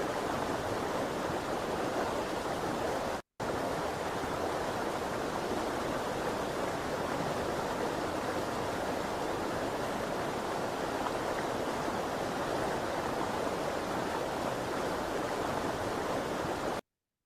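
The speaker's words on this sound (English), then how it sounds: "enjoy the wonderful sounds of the waterfall." A steady, dense rush of falling water roars evenly throughout, broken only by one brief dropout near the start.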